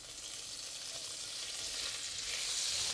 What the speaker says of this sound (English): we will just fry this until they are a little bit crispy